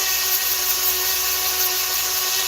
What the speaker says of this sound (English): I got this sanding disc on here. I'm gonna try to sand this down a little bit.